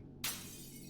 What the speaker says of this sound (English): I'm gonna break the glass to come over here.